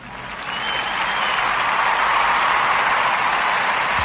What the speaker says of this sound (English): we give it applause for him